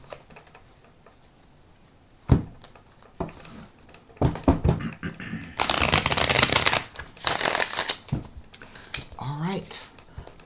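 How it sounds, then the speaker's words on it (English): Tarot cards being shuffled and riffled in bursts, with a crisp fluttering riffle in the middle, close up, amid soft handling noises. "I'm going to put another shuffle and rifle on these"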